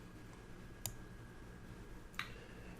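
A computer mouse clicks twice in a quiet room, two short, crisp, close clicks about a second and a half apart.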